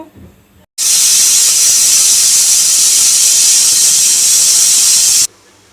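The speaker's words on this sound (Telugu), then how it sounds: "ఒక సిక్స్ సెవెన్ విజిల్స్ వచ్చే వరకు వెయిట్ చేయాలి స్టవ్ పైన పెట్టేసా" A pressure cooker on a stove lets off steam in one loud, steady, hissing whistle that starts abruptly, holds for about four and a half seconds, then stops sharply.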